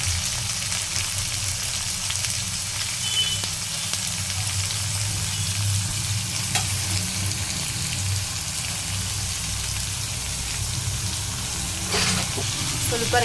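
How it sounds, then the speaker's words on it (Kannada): Onion and green chillies frying in oil, giving a steady, even sizzle throughout with a few faint clinks, close and continuous, with no talk. "ಈರುಳ್ಳಿ, ಎಣ್ಣೆ, ಮೆಣಸಿನ್ಕಾಯಿ, ಈರುಳ್ಳಿ ಇದಿಷ್ಟು ಚೆನ್ನಾಗಿ ಫ್ರೈ ಆಗಿದೆ"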